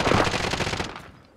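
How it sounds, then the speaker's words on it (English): Rapid automatic gunfire in a squad battle royale video game, a dense burst of loud, close shots lasting about a second before trailing off. "Someone's trying to shoot me."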